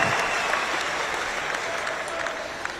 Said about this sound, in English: Let's give them our applause.